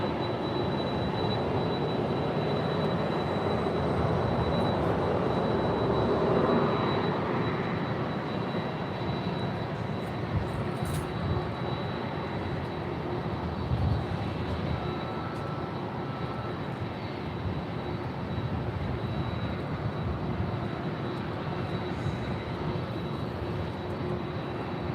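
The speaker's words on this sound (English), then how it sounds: "that is Delta Airlines Flight 323, heading back to JFK in that 767-400ER" A 21-year-old Delta Airlines Boeing 767-400ER jet waits second in line for departure on runway 24 Left at LAX, giving off a steady, loud, continuous engine roar that holds evenly for the whole stretch.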